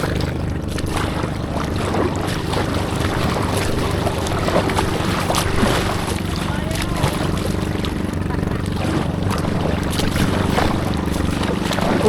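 Continuous rough rush of water and wind against a small kayak in strong sea waves, steady and loud throughout, with a low engine-like rumble underneath.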